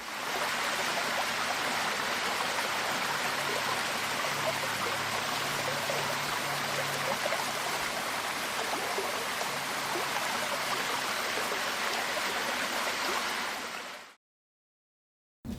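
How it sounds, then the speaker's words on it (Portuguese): A waterfall of steadily running water gives a loud, constant rushing hiss that fills the clip without a break, then cuts off abruptly just before the end. "Acertou quem disse que é a água correndo, né? Uma cachoeira."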